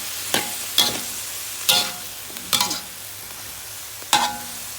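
Chicken gizzard and winged beans are stir-fried in a pan, with five or six sharp scraping stirs at irregular intervals over a quiet low sizzle; no talking.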